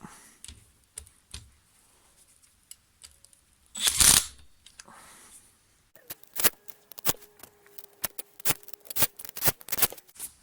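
An 8mm wrench tightens the blade bolts on a STIHL HS56 hedge trimmer, heard as close metallic clicks and taps, one louder scraping burst, then a rapid run of sharp clicks.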